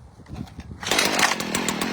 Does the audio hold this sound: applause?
no